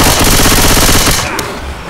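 Rapid machine-gun fire in the zombie shooter Left 4 Dead, a loud, dense, steady burst that cuts off abruptly partway through, followed by fainter rattling.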